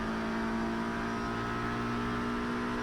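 A racing car engine in Project Cars 3 at Donington Park, held at a high, steady over-rev with a sustained droning whine and no voices.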